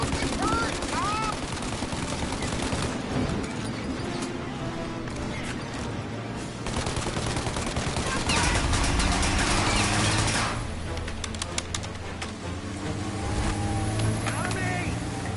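A turret is shot at in the Mafia video game as rapid bursts of gunfire crackle over a roaring car engine, with voices shouting loudly throughout the chaotic chase.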